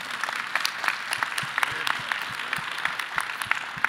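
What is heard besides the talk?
audience applause for a speaker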